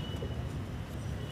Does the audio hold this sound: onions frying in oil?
no